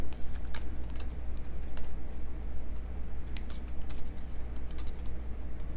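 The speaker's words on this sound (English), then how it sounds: "I'm just going to snip off where that border is." Scissors snipping off a paper border during card crafting, heard as scattered small crisp cuts and clicks at close range over a faint steady background hum.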